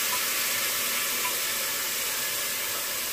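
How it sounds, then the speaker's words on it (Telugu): Tomato puree fries in a pan for a mutton curry, giving a dense, loud, unbroken sizzle that holds steady close by with no pauses and no voices. "వీటిని బాగా పచ్చి వాసన పోయే వరకు వేయించుకుందాము"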